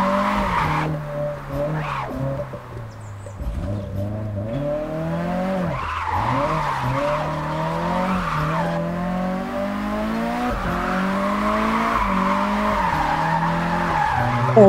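Car drifting in the video game Drift Master, with sustained loud tire skids and squeals over a steady engine drone, swelling and shifting pitch through the slides with no break.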